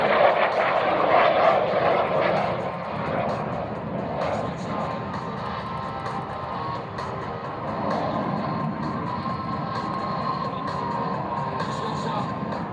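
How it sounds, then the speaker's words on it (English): A MiG-17 jet fighter makes a high-speed pass at an air show, producing a loud, sustained engine roar that holds steady for several seconds before easing slightly as it continues past. "I remember this one. MiG-17."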